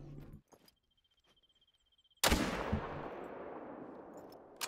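A single loud, sharp gunshot at a turkey in theHunter: Call of the Wild, cracking out after a near-silent stretch and trailing into a long rolling echo, with faint clicks before and after.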